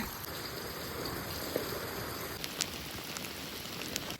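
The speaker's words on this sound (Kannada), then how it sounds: "ಮಳೆ ಮಾತ್ರ ಬಿಡಲಾಗ್ಯದ" Steady rain falling outdoors along a road near a small roadside hotel, a continuous even hiss with a few sharper drop hits scattered through it.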